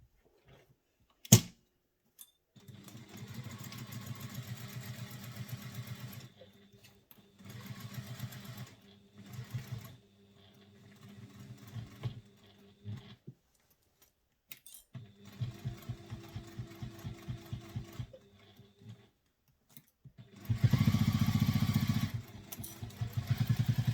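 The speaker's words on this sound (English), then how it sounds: "now we're going to sew that again using the seam allowance stated in the pattern" A sewing machine stitching a handbag seam runs in several bursts of steady motor whir, separated by short pauses and small clicks, close and fairly loud.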